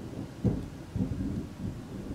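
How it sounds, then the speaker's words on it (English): Loud thunder rumbling in low, rolling bursts with a sharp crack near the start, heard indoors with faint rain in the background and no talking. "Thunder. Wow, that was super loud."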